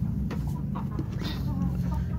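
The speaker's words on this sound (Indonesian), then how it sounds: "Kita harian kasih makan ayam kampung." Free-range village chickens being fed, clucking in short scattered calls close by over a low steady background hum, with no talk.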